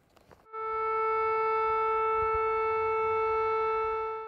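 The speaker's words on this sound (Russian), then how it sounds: "Это звуки сирен в Кургане." A steady, loud civil defense siren in the city of Kurgan, Russia, during a state of emergency, holding a single sustained tone for several seconds after a brief burst of background noise at the start.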